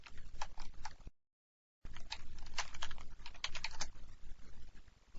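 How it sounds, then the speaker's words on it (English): Fast typing on a computer keyboard, steady clicking keystrokes with a short pause partway, close and fairly quiet, no voices. "All we have to do is type in hello world."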